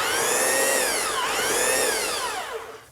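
A belt sander works on wood with a loud, close, whining motor hum. The pitch dips briefly as the tool slows, rises again, then fades toward the end.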